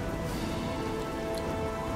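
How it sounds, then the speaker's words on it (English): Steady rain pours down in the video game Oblivion, a dense, continuous hiss of falling water that stays even throughout with no voices. "There's a place to get out of the rain, maybe."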